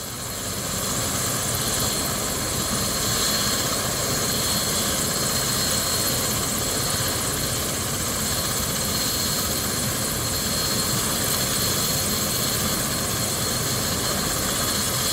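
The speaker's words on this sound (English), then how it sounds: "You'll see the helicopter fly across the top of the house" A Trauma 1 hospital helicopter flying over a house in Brunswick, Georgia, delivers a steady, broad rotor and engine roar, loud and continuous throughout with no voices.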